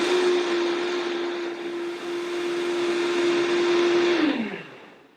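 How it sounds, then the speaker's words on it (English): A Ninja Creami machine whirs steadily as it spins blueberry oat ice cream, a loud, constant motor drone that holds its pitch for about four seconds before winding down and fading out. "And then we just blend it up again."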